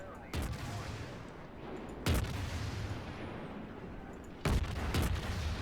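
The Krasny Krym cruiser's naval guns fire in World of Warships: three separate loud booming salvos spaced a couple of seconds apart, each followed by a rumbling tail over steady engine and sea noise.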